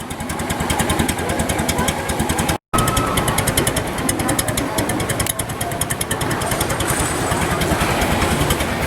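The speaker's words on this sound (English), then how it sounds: "goes to a bevel gear, drives up there, a chain, big old chain there, goes up to the shaft and spins these guys around here" Old engine driving an amusement park ride mechanism through a bevel gear, big chain and shaft, its loud, steady rapid chugging filling the clip with only a brief dropout, no talk.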